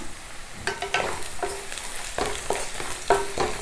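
Onions sauté in a pan for a vegetable saagu, a soft background sizzle punctuated by a series of sharp, rhythmic scrapes and taps of a spatula stirring them close by.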